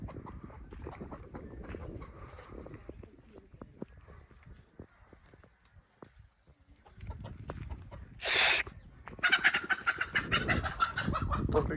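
A hen on a farm clucks and squawks in short bursts, near and moderately loud, over outdoor background noise, with a sharp loud flutter or cry near the end.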